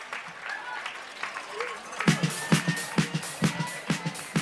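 A small audience at a live quiz night claps for the contestants, with scattered, uneven claps that build into a loose rhythm of distinct nearby hand claps while a voice talks over them early on.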